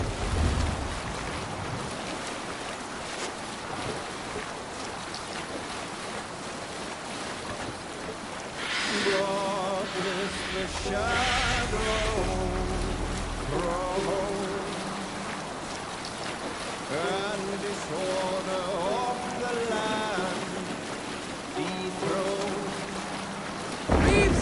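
A sailing ship moves under sail in Assassin's Creed Valhalla, with a steady rush of wind and water and waves washing past the hull. Muffled crew voices and chanting rise over it midway.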